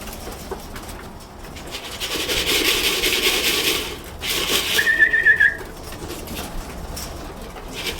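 Racing pigeons at a 600 km race in Kirkuk coo and stir near a loft, with rustling wing sounds and a brief high whistling trill in the middle, set against a steady, moderately loud outdoor background.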